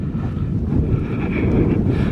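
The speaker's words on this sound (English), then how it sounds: "I know the wind's gonna be bad, but we're on the top of Hump Mountain" Steady, loud wind roars and buffets the microphone on the exposed, cold summit of Hump Mountain along the Appalachian Trail, a constant low rumble with no voices.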